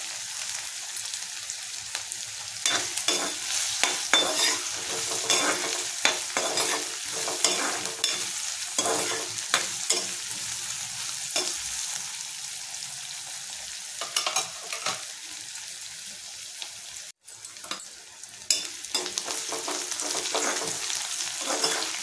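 Mustard seeds, cumin and curry leaves sizzle and crackle in hot oil with frying onions in a pan, a steady bright hiss with scattered pops and spatters, fairly quiet, with no talking.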